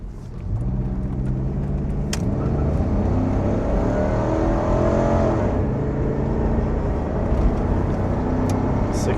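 A big station wagon, a L2157, accelerates uphill on a highway, its engine rising through a long steady pull with shifting pitch, loud and close from inside the car over road rumble.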